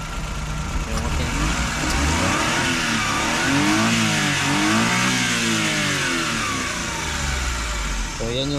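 A car engine under the hood of a rare wagon revs up and settles in a steady rise and fall, heard close and fairly loud, with someone talking over it.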